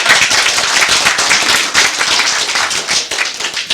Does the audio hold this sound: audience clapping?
yes